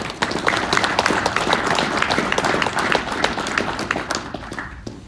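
Loud, dense applause from a large audience at a company annual general meeting fills the room, then thins out and fades in the final moment.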